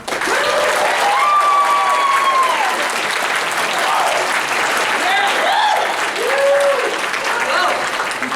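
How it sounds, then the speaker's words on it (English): A convention audience at an anime voice-actor panel applauds for about eight seconds, a dense, loud, steady clatter of many hands with scattered cheers and voices mixed in. "Round of applause for Anne McArthur."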